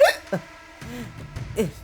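Hiccups from an older woman at a wedding hall, several short separate catches spread over a couple of seconds, close and fairly quiet, with no talk.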